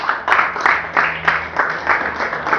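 A church congregation applauds in a rhythmic series of swelling bursts, roughly one every third of a second, loud and close with a roomy crowd wash behind it.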